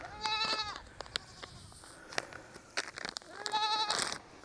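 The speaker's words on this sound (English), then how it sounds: "Well, hello, goats. What are y'all doing?" Goats bleat at close range on a farm in hot weather, two long wavering calls at the start and end with soft clicks and shuffling between them.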